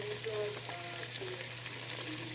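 Chopped onions and garam masala frying in hot oil for a tempering, a steady close sizzle with faint stirring and a low hum running underneath.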